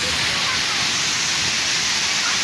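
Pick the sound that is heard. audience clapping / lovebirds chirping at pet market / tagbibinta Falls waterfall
tagbibinta Falls waterfall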